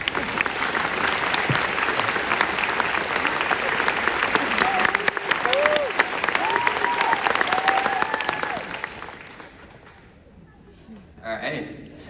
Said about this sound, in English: start clapping when I finish this sentence and stop when I close my hand